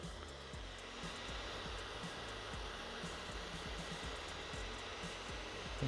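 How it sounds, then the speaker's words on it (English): The cooling fan of an Apeman LC350 mini projector runs at close range, giving a steady, even whoosh with a faint low hum and no change in level. "So the fan is right here to the side."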